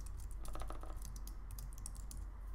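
Steady typing on a computer keyboard enters a faucet name, a close, continuous patter of crisp key clicks with brief uneven pauses and no speech.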